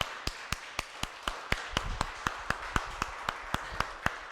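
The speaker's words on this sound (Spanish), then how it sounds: "Dale pues un aplauso a Dios por eso." A church congregation claps in steady unison, a crisp even beat of sharp claps roughly four per second, moderately quiet and with no voices over it.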